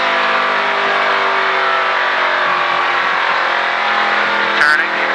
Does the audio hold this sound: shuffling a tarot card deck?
no